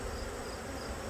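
Steady, close buzzing of young honey bees shaken from a hive frame during a fall swarm check, a dense continuous hum with no talk.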